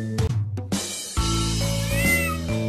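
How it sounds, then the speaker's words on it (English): A kitten meows within a children's counting song, its clear, prolonged cries standing out over bright sung music and instrumental accompaniment. "One little kitten is sitting in the garden."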